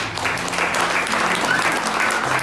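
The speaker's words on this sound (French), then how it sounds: "Bien-aimé, est-ce que tu peux acclamer Dieu?" Sustained applause fills a church as the congregation claps in praise of God, a thick, even wash of many hands lasting the whole stretch without a break.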